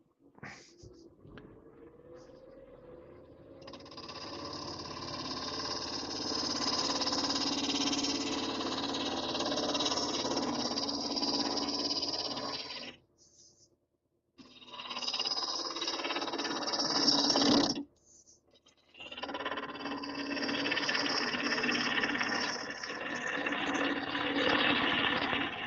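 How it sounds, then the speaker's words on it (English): Steady broadband rasping and whirring from a wood gouge carving away material in long sustained passes, loud and continuous with two brief pauses, no talking. "Back with the gouge."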